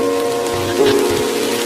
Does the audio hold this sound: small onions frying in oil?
no